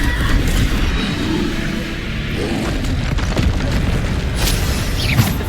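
Bombarda spell blasts in Hogwarts Legacy, heavy booming explosions with crackling bursts and debris, several impacts layered over a busy, constant combat din.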